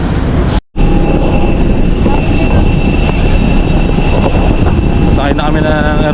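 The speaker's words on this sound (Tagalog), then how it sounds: "Sakay na kami ng aeroplano. Cebu Pacific." Cebu Pacific airplane cabin, a loud constant engine roar and broadband rumble filling the space, with a brief cut near the start and a rising whine toward the end; nearby voices talk over the drone.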